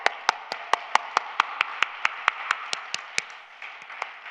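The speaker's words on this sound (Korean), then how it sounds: "하나님께 영광이 박수 올립니다." A congregation at the Osanri prayer house claps in a steady, brisk rhythm of about four or five claps a second, moderately quiet and crisp, with no talking.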